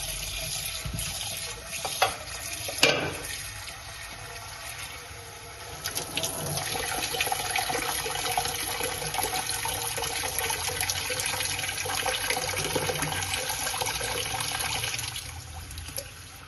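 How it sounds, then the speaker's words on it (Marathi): Water pours and splashes into a new clay cooking pot as it is refilled after scrubbing, a steady close gushing with a couple of knocks early on and the flow swelling louder halfway through. "भांडे स्वच्छ झालेले पुन्हा पाण्याने भरून घ्यायचं"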